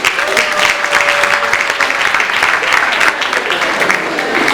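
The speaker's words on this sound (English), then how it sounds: "So please, a round of applause for them for this job." Hearty audience clapping at a 2017 graduation ceremony, a thick, even wash of applause held for several seconds, with a brief tonal hum near the start.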